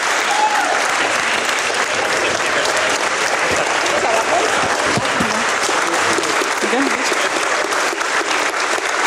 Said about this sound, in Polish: I jeszcze raz o szczególne brawa proszę dla profesora Bogdana Wojciszkę,